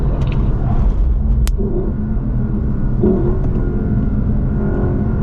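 A Lexus car on the Laguna Seca racetrack holds a loud, steady engine drone with rumble and whir, the pitch shifting slightly as it accelerates, close and continuous throughout.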